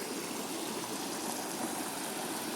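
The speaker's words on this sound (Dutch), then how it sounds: "het is al een heel leuk riviertje" A small river flows steadily at close range, its broadband rush of water continuous and even throughout, with no voices over it.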